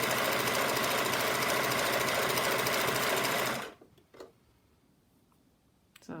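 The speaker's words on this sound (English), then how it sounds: "So then I will just serge as usual." Serger overlocker stitching fabric for a wrap dress, a fast rapid-fire mechanical chatter for about three and a half seconds before it stops abruptly, followed by a few faint handling clicks.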